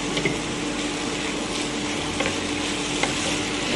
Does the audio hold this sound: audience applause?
no